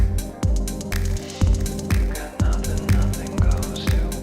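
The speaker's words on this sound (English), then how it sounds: "I just added some reverb to the drums." An Elektron Octatrack plays a looping drum pattern with reverb added: punchy kicks fall on a steady beat, trailed by washy reverb tails and crisp hits. The loop plays alone, with no talk.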